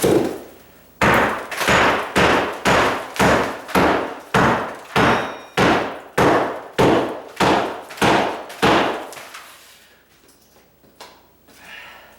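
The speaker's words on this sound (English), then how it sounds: "if I use my hammer" A hammer strikes a tile countertop again and again, about fifteen sharp, loud cracks in a steady rhythm, then stops and leaves faint scraping and quiet noise.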